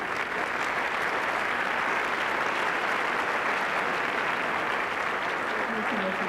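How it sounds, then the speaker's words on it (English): An audience claps for student science fair winners, a dense, steady wash of applause filling the hall, loud and unbroken throughout. "Let's have a round of applause as Dr."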